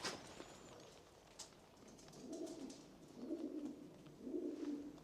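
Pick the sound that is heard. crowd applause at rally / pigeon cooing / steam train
pigeon cooing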